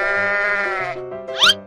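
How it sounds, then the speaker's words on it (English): A sheep bleats in a children's animal game, a loud, close, wavering cry that ends in a sharp rising upper note, heard alone without talk. "Sheep."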